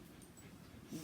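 Indoors, a dog makes a soft, faint whimper with a little panting in a short stretch, no one speaking over it.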